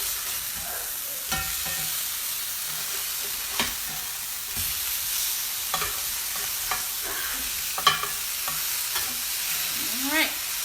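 Sirloin steak sizzles steadily in a hot pan after flipping, a constant loud crackle broken by occasional clinks and scrapes of a utensil, close up with no one speaking.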